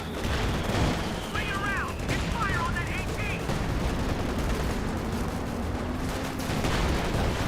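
Tank high explosive HEAT rounds fire in the World War II strategy game Company of Heroes 2 as a dense run of gunfire and booms. A voice talks over the shots.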